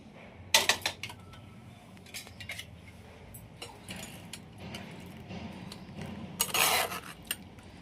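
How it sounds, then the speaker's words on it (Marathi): Hot tomato soup is strained through a metal strainer in a home kitchen, heard as sporadic clinks and scrapes of a spoon against metal, with sharper knocks near the start and a louder scraping burst near the end, otherwise quiet. "आता आपण हे गाळून घेऊया."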